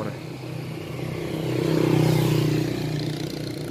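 Exhaust of a 2005 Honda Wave ZX motorcycle with an original engine, idling steadily at close range with a low, even putter that swells slightly midway, with no voices over it.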